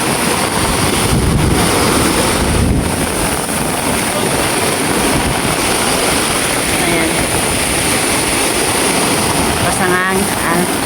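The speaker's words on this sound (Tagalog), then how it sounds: "napakalakas ng hangin at saka alon." Strong wind roars steadily into the microphone with a broad rushing wash of churning waves beneath it, loud and continuous throughout, in stormy coastal weather.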